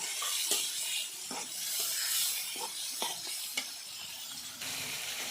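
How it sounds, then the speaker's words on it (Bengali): Potatoes for a prawn and Malabar spinach curry sauté in a pan with a steady, close sizzle and hiss, broken by repeated scraping stirs at a regular pace. "আগে আমি আলু কষামো"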